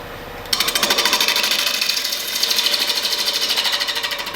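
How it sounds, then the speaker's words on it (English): A heavy-duty wood lathe spins up and turns a bowl blank with a steady, loud mechanical whir and rapid rhythmic pulsing that begins abruptly after a brief quiet moment and continues evenly throughout, with no voices. "I have a pretty high quality, heavy duty lathe here, so I could probably go even faster than this"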